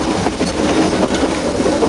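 A Nilgiri mountain rack-and-pinion steam train runs close by, its steady rumbling roll and clattering wheels filling the whole short stretch without a break.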